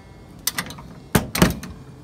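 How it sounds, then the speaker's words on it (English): A loaded meat smoker's door swings shut, with a light metallic clatter followed by a louder close thunk and latch rattle, close by with no talking. "Close the door."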